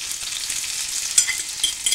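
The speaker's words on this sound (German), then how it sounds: "Das Ganze tue ich jetzt goldgelb anbraten." Pork cheek and leek frying until golden in a pan, a steady close hiss of sizzling fat with small pops and crackles, loud and continuous with no talking.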